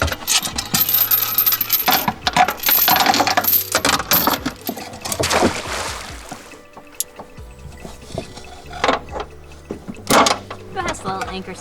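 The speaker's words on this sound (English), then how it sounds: "Best little anchor sound ever" A small boat anchor drops and chain rattles out in a series of loud metallic clatters and splashy bursts over about ten seconds, with intermittent talking and low engine hum underneath.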